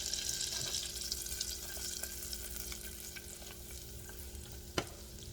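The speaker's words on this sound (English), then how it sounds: "I'm going to melt that butter." About three tablespoons of butter melt in a pan on the stove, giving a steady soft sizzle and crackle throughout, fairly quiet and close, with one sharp tap of a utensil near the end.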